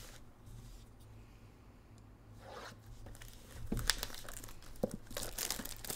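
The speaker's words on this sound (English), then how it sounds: "That knife cut so clean right now" A knife slices cleanly through the plastic wrap on a 2022 Topps Chrome Sapphire F1 trading card box, a faint crinkle that becomes a louder tearing, crackling run toward the end.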